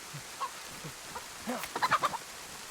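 A chicken in the DayZ video game clucks a few times, faint at first and then a quicker run of short clucks toward the end, against a quiet background.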